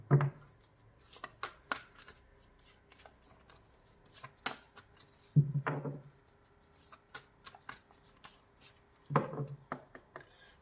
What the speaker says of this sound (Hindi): दोनों डेक से पहले कार्ड्स ले लेते हैं।